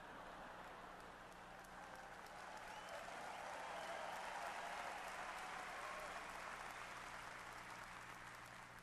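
An audience at a leadership talk featuring General Norman Schwarzkopf and Tony Robbins claps in response to a joke, a sustained, fairly distant patter that swells slightly midway before easing off.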